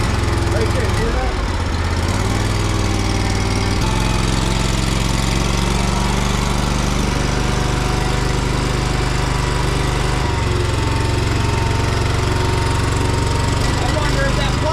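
A 1983 Honda Civic's 1.5-liter EM1 engine runs loud and close with one cylinder misfiring, giving a steady, uneven idle chug with occasional rough stumbles throughout.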